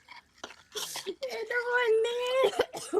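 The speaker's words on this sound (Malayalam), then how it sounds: "ഇപ്പൊ തന്നെ ചുമ വന്നെ മണം അടിച്ചിട്ട്" A short burst of coughing from the smell of Buldak 2x spicy noodles, then a voice speaking, with the cough sharp and close before the talk takes over.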